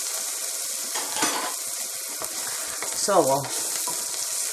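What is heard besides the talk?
onions and garlic sauteing while being stirred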